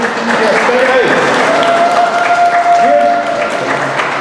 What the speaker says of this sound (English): Give an applause for yourself